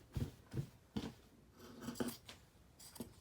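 Scissors snipping through the seam of a trench coat being upcycled, a run of close, crisp cuts in an uneven rhythm, about seven snips with short pauses, no voices.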